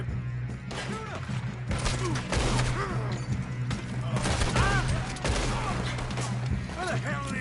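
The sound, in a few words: gunfight shooting in the video game Red Dead Redemption 2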